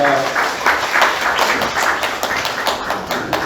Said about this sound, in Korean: 어머니 박수 올려드립니다